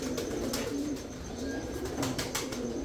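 Pigeons coo at a breeding farm, several soft repeated coos in a rolling rhythm, close by and moderately quiet.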